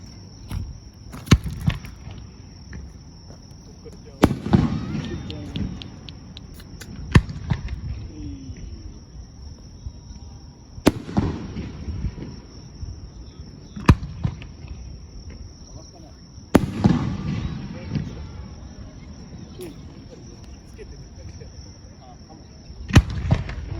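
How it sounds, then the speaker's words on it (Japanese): Fireworks burst close overhead during a fireworks relay seen from a campfire, several sharp loud booms spaced a few seconds apart with crackling tails, over a constant high insect drone. "真下の花火ですよ。"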